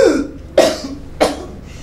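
A person coughs three times in short, harsh bursts spaced about half a second apart, close and fairly loud, in an indoor scene from a drama series.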